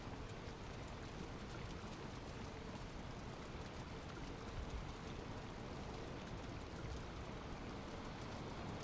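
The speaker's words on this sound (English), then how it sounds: "Still raining." Steady rain falling in the Valheim game world, an even, continuous hiss of drops with no break, fairly soft and unaccompanied by any voices.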